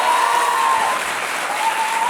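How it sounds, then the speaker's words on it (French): Studio audience in a French television talk show clapping steadily, a dense even wash of applause with no voices over it. "applaudissez-le"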